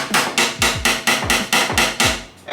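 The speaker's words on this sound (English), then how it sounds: "if you have to take a hammer and tap on some spots" A hammer taps steadily on a car body panel during an engine bay shave on a BMW E30 getting an S54 engine swap: about nine sharp, evenly spaced metallic strikes, close and loud, with no talking.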